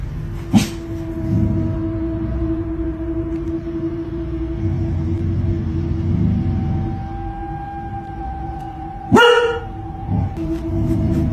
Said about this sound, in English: barking and growling as if warning whatever was there to stay back